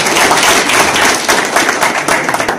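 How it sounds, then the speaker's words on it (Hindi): A loud, dense burst of audience applause fills the room at a Radio Pakistan Gilgit 40th anniversary ceremony, continuous close-up clapping with no pauses. "तो इश्तियाक साहब के लिए बहुत सारी तालियां होनी चाहिए"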